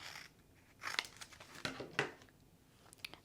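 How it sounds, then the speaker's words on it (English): Scissors snipping through a sticker sheet for a coffee-themed badge reel, several quiet crisp cuts with paper crinkling between them, close and soft in a hushed room. "So I'm just gonna use my scissors, take the one we need"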